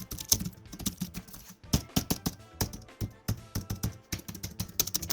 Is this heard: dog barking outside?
no